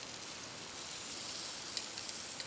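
Lamb chops cooking over a LifeDoo Urod portable fire pit, a soft, steady sizzle with faint crackles, quiet and without voices.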